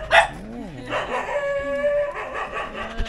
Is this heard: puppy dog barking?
yes